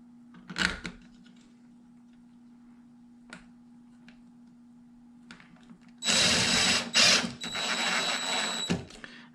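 A power drill drives number 6 by 1 inch drywall screws in short whirring bursts, with a sharp click early on, then a longer run of drilling near the end against a quiet background.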